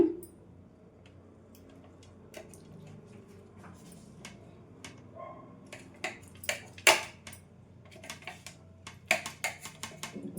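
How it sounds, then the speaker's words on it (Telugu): Knife cutting a slab of jaggery Bombay Karachi halwa into small pieces, a series of sharp taps and clicks on a board, sparse at first then more frequent and louder toward the end, with no talking. "ఈ విధంగా టర్న్ చేసేసుకొని ముక్కలు కట్ చేసి చూపిస్తానండి"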